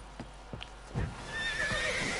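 A horse neighs in The Witcher 3: Blood and Wine, several whinnies rising over hoof clip-clops and ambient game sound, fairly close and clear with no talk.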